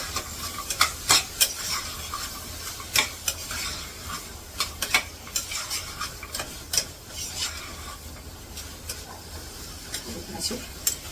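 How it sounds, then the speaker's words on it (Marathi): Washed chickpeas stir-fried in garam masala, a continuous close sizzle under frequent rhythmic scrapes and clacks of a spoon against the pan. "गरम मसाल्यामध्ये एक मिनिटभर परतून घेते असे"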